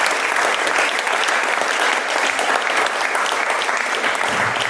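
Audience applause following a talk, a dense, loud wash of many hands clapping steadily from start to finish, close and continuous with no speech.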